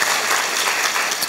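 A student audience bursts into applause at a lecture in Gwangju, a dense, steady wash of many hands clapping close by throughout, with no talk over it.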